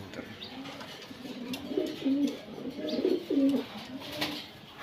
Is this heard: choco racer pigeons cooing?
yes